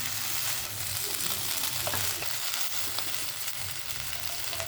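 Cauliflower, potato and onion sauté in a pan over medium flame, giving a steady, close sizzle and frying crackle with occasional stirring scrapes, no voices.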